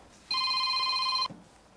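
A telephone rings once, giving a single sustained electronic trill of about one second that cuts off abruptly against a quiet room.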